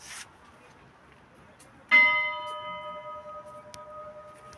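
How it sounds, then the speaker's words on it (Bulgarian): A single struck bell at the Bells Monument international children's park rings out once with a bright clang and a long ringing decay, over quiet outdoor background with faint voices. "Не бейте силно камбаните."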